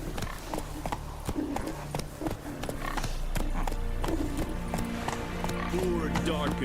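Roach, the horse in The Witcher 3, gallops with a steady clip-clop of hooves and a whinny, set against the game's music and ambience, while someone speaks over it.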